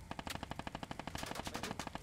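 Rapid automatic rifle fire in a war video game, a fast, even stream of roughly twenty close, punchy shots in about two seconds, with no talking over it.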